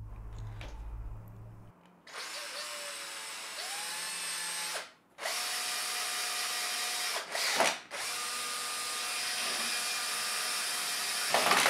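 A power drill drives screws into the wooden frame of a workbench built from a Simpson Simply Build It kit, in several sustained whirring bursts separated by short pauses, close and loud with no talking.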